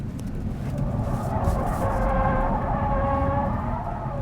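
A Hyundai IONIQ 5 N floored into a drift gives a steady, loud synthetic motor drone with tonal whine bands, with faint tyre scrub beneath, continuous for a few seconds.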